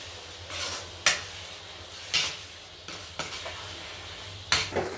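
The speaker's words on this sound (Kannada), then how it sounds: "ಇವಾಗ ಇದು ಚೆನ್ನಾಗಿ ಮತ್ತೆ ಮಿಕ್ಸ್ ಮಾಡಿಕೊಂಡು ಫ್ರೈ ಮಾಡ್ಕೊಳ್ಬೇಕು." A spoon scrapes and stirs carrot halwa with dry fruits in a pan, giving several sharp scraping strokes at irregular intervals over a faint, steady sizzle. No one speaks.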